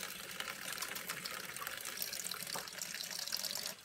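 Quick watering of small potted haworthia succulents: a steady, faint stream of water splashing and trickling into soil for a few seconds, with no talking.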